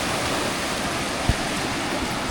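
Glacial water rushes through a stream in Marble Canyon, Canada, a steady, loud, close roar with no break and no voices.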